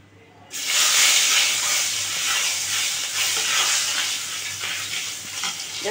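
Ground garam masala drops into hot oil left from frying fish and bursts into a loud, sudden sizzle that settles into a steady hissing fry, close by.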